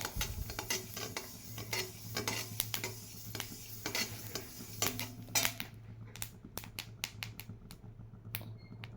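Sesame seeds crackling as they roast in an iron pan for idli podi, with sharp scattered pops and a sizzle over a low background hum, the pops becoming sparser and more distinct toward the end.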